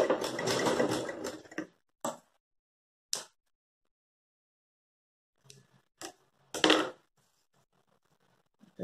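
A sewing machine stitches darts on a lined blouse. A longer run of stitching is followed by several short, sharp bursts with quiet gaps between them.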